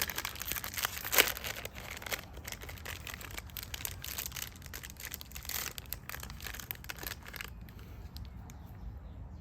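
Wrapper of a Magnum ice cream crinkling and rustling close up, a dense crackly stretch with a sharper tear-like burst early on, gradually thinning out toward the end.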